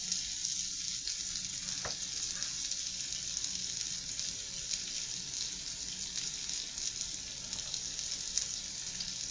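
Dollar Tree garlic Texas toast sizzles in a pan, a dense continuous hiss with faint crackle holding steady throughout, nearby and fairly quiet, with no talking.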